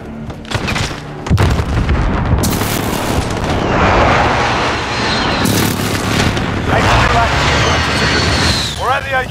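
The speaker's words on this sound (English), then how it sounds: "Be advised, friendly precision airstrike inbound." Heavy booms and blasts from a precision airstrike in the video game Call of Duty Warzone, a dense, loud barrage of explosions and rumbling impacts running throughout, with game voices speaking over it.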